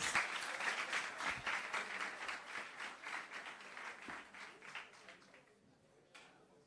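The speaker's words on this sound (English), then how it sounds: "give yourselves another round of applause" Secondary school students at Guys Hill High School applaud in a room, a dense round of clapping that starts strong and gradually thins and fades toward the end.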